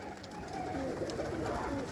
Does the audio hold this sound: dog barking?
no